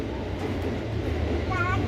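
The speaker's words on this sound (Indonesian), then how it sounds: "Kereta Thomas udah jalan." Thomas train rolling along a railway track: a steady low rumble with faint clattering and a brief squeal, heard from nearby while children and adults talk over it.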